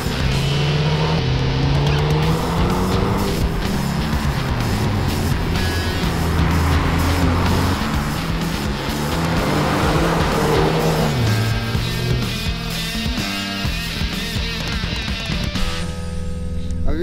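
A 2022 BMW 235i Gran Coupe, all-wheel drive, drives past with a steady engine note that swells and fades, with some road and wind noise and no talk.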